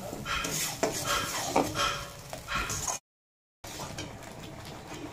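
Spice paste cooks in a pan for paneer butter masala, with busy metallic scraping and clinking of a spatula over a soft sizzle, broken by a short moment of complete silence before the stirring resumes.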